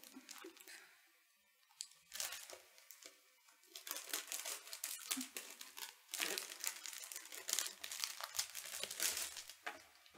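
Close, crinkly rustling and crackling of plastic packaging being handled and pulled apart, in irregular bursts with short quiet pauses.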